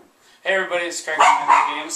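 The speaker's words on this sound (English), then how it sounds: "that's my dog barking" A dog barks a few times beneath a voice as he speaks close to the microphone, the barks short and mixed into his talk.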